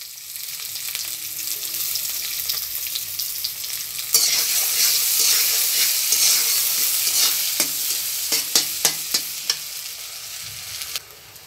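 Chopped onion and chili sizzle in hot mustard oil, a steady frying hiss that swells louder midway, punctuated by sharp clinks and scrapes of a spatula stirring the pan, with no talking.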